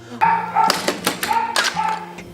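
Dogs in an animal shelter's adoption area bark in a few sharp, echoing bursts spread over about two seconds, with a second bark pattern repeating after a short gap.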